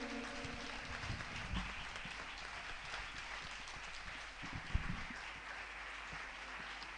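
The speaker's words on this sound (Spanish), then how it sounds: "Fuerte el aplauso al Señor esta mañana." A church congregation applauds during a morning service, a steady, even wash of many hands clapping at moderate distance, fairly faint and sustained throughout with scattered louder claps.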